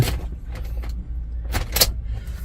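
A Toyota Fortuner with a 2700 cc engine converted to run on LPG starts up, with a low steady rumble and a couple of short, sharp mechanical bursts close by.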